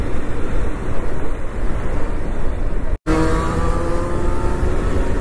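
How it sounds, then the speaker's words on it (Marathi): Motorcycle engine running loud and steady, a continuous broadband roar with a brief cut near the three-second mark, then resuming with a rising revving tone. "काय फायरिंग होती बाईकची, खूप आवडते आपल्याला"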